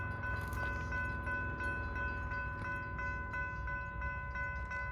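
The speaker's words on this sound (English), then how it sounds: "we have a northbound BNSF train coming" A northbound BNSF freight train, the Sacramento local, draws closer with a steady, droning rumble and a sustained tonal horn-like hum holding throughout at moderate distance, with no talking.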